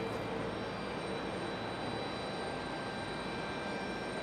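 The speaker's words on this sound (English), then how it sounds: "Here's American touching down." An American Airlines jet lands at Raleigh-Durham airport in stormy weather. A steady, fairly faint hiss of engine noise carries from a distance, with faint high tones held through it and no voices.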